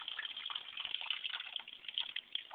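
Tap water runs in a steady, hissy gush close by, continuous and fairly quiet throughout with no voices over it.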